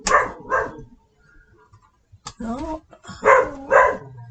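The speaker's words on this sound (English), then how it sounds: "is talking to the neighbor dogs outside" A dog named Tippy barks at neighbouring dogs outside, with a few short barks that cut in and out around a person speaking nearby during a sewing session.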